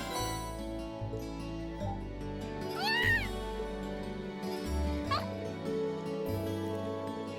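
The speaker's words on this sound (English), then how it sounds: "I believe the cat is here. Hiding." A cat meows twice in the video game Trails of Cold Steel, two short rising-falling cries a couple of seconds apart over soft game music.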